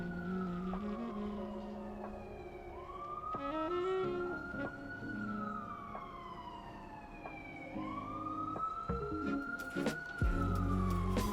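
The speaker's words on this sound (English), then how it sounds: "Sirens." Police car sirens wail nearby, sweeping up and down in long repeated cycles over traffic rumble, fairly loud and continuous, with a sharp burst of low noise at the end.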